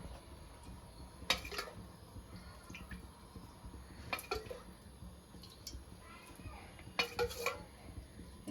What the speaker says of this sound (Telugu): ఇక కావాల్సినంత ఆయిల్ పోస్తాను